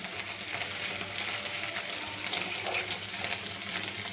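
Four or five green chillies fry in hot oil with onion for a puti fish chorchori, giving a continuous close sizzle and crackle with a few sharper spits. No voices are heard.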